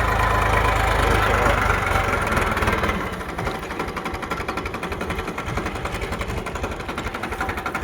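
A tractor engine idles with a steady, rumbling chug; the throbbing becomes a distinct rhythmic knock partway through, continuous and fairly close.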